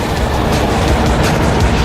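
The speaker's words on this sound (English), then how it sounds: "This route will let freight trains race through the mountain at 100 miles per hour" Freight train rushing through a long mountain rail tunnel, a loud, steady broadband roar with faint rhythmic clatter running throughout.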